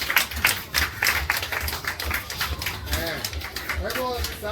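School children applauding at a patriotic fun day event, bursts of scattered clapping mixed with an adult's voice over a loudspeaker and chatter.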